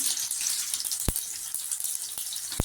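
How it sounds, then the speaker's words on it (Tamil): Mustard seeds and urad dal sizzle in hot oil for Tamil tomato thokku, a steady bright hiss broken by a few sharp pops and crackles, close and alone. "இப்போ கடுகு உளுந்து பருப்பு போட்டுக்கலாம்"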